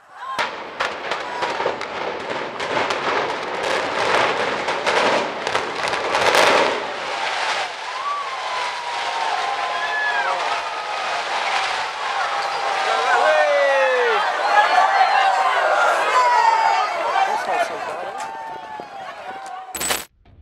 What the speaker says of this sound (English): Here is Blackpool's iconic tower block's demolition on Sunday, the 31st of July, 2016.